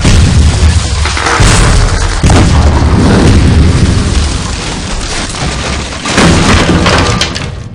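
Heavy booming cannon blasts roll out loudly one after another, thunderous and dense, with crackling debris between the bursts.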